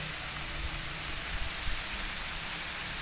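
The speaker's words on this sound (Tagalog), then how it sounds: "ang ating piniprito" Chicken fries in hot, very dark oil at a street-corner fried chicken stall, making a dense, even sizzle like heavy rain that stays loud and constant, with a few faint pops.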